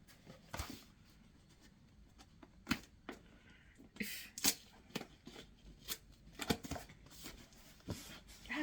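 A cardboard box of yarn is cut open, with scattered scraping, tearing and snipping sounds coming in irregular bursts close by, fairly quiet with no talking.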